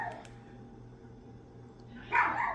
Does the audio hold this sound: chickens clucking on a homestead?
no